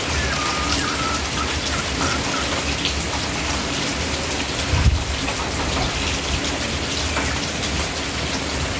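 Steady, dense rain falls and patters on surfaces throughout, loud and continuous, with a brief low thump midway.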